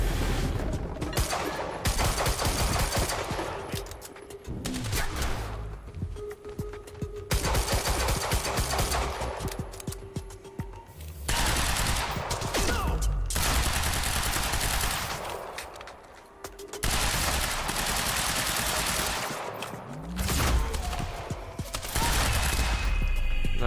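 Sustained bursts of automatic gunfire in the Quantum Break video game come in long volleys separated by short pauses, loud and close, with a few heavier booms among the shots.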